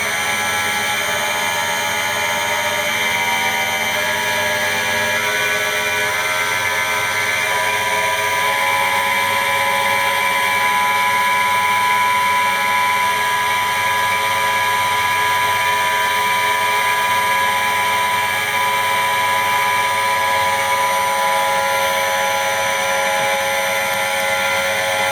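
Four ball tester tribometer running at 1200 RPM, a loud, steady mechanical whine with high tonal hum that stays constant and close throughout, no speech.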